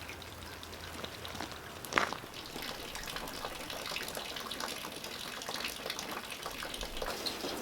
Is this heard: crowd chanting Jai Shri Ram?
no